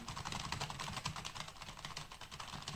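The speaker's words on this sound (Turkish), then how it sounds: "Klavyemin çalıştığını tekrar gösteriyorum" Quiet, rapid keystrokes on a keyboard connected to a Samsung Galaxy Tab A7, a steady run of light clicks alone with no voices.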